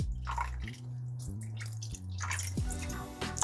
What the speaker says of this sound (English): And then we're going in with a little bit of beef broth.